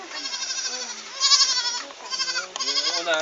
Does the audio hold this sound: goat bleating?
yes